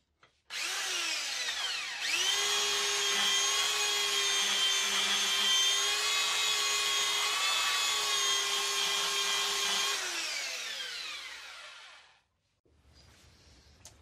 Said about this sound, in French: Je vais peut-être y aplatir déjà ici. À la ponceuse, je pense.